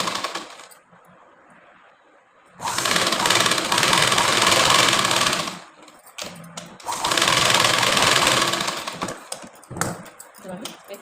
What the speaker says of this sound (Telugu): ఇప్పుడు ఇంకొక దీనిపైన స్టిచ్ వేయాలి. వేస్తున్నాం చూడండి.